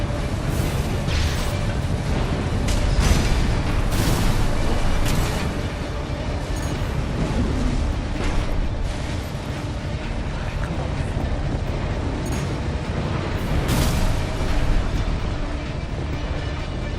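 Constant loud rumbling roar of battle in Armored Core 6, with booming blasts on the ground and engine-like drone, heavy and continuous, with bursts of louder impacts scattered throughout.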